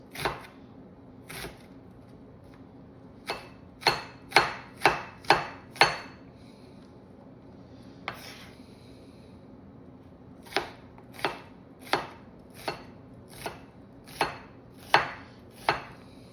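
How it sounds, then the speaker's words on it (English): Half an onion is sliced with a knife on a board in a quiet kitchen, giving sharp, crisp chops: a few scattered at first, then quick runs of evenly spaced strokes, close and distinct, with no talk. "Next, my onion. This is a half an onion. I'm just gonna give those a slice."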